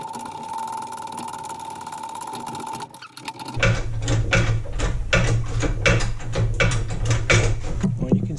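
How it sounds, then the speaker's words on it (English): Press forcing the axle shaft out through the bearing on an Argo ATV, a steady hum giving way to a rapid run of clicking, ratcheting mechanical taps with a low drone underneath, close and moderately loud. "I'm going to press that shaft out of there."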